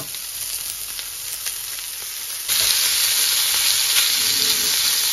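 Bacon frying in a pan makes a loud, continuous hissing sizzle close by, which grows noticeably louder about halfway through and holds steady with no talking.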